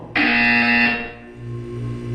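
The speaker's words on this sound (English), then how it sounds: "When you hear the buzzer, look down at the floor." A loud electronic buzzer from the video game Portal 2 sounds steadily for about a second, then cuts off and leaves a low hum.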